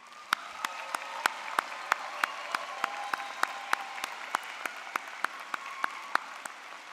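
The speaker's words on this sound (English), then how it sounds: "go ahead, give yourselves a round of applause" Graduates of the University of Illinois Chicago nursing program applaud themselves at their spring commencement, a steady dense wash of clapping with sharp individual claps popping out at a regular pace throughout.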